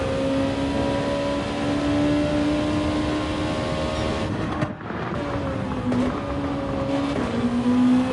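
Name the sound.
race car engine accelerating and downshifting in a racing video game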